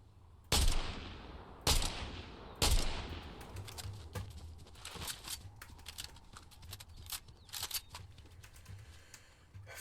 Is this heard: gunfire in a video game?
yes